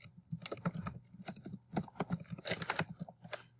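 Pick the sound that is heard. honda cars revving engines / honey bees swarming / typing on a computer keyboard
typing on a computer keyboard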